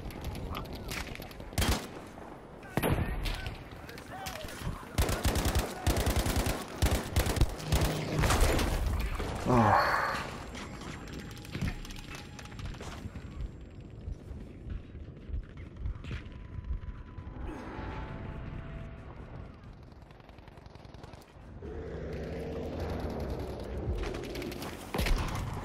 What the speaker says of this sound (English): These guys are just blind firing.